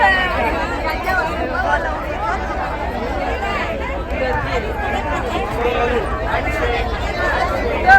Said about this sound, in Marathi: गर्दी आहे म्हणजे